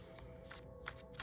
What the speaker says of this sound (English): I've already shuffled these, but let me just do a few for good measure.